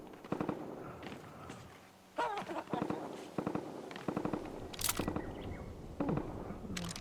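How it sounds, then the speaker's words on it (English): Repeated bursts of gunfire in the Fortnite video game, distant and moderately loud, come as rapid volleys separated by short pauses. Footstep-like clatter and some game noise fill the gaps. "Hear shots off in the distance."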